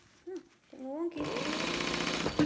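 A sewing machine runs a short back-stitch burst on a bag seam, a steady close whirring after a brief pause, with a voice speaking softly just before it starts.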